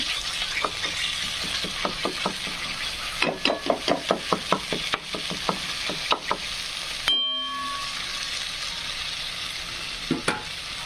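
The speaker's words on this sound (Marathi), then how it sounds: "छानपैकी असा मसाला फ्राय झाला" Spice masala fries in a pan for a spicy mutton rassa, with a steady sizzle under bursts of rhythmic spatula taps and scrapes, a brief near-silent gap, then frying resumes with a few more knocks.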